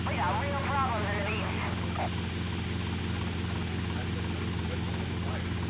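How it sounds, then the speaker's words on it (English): A helicopter in Grand Theft Auto: Vice City drones with a steady low rotor hum throughout, while people talk briefly over it early on. "I'm just gonna park the helicopter"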